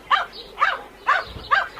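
A dog barks four times in an even, spaced rhythm, each bark short and moderately close, with no talking over it.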